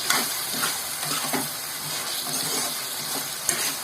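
Potatoes fry in a pan for curry, giving a steady close sizzle with scraping stirs and a few sharp clinks, and no talking.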